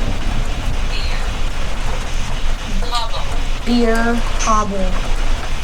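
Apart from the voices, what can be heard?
rain falling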